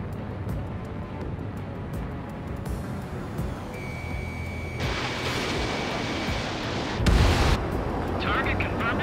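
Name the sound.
explosions destroying anti-air radar vehicles in the video game Ace Combat 7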